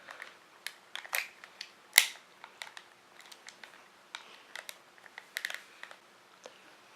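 Battery being pried out of a Motorola GP340 two-way radio: scattered close plastic clicks and snaps over several seconds, with one sharper crack partway through.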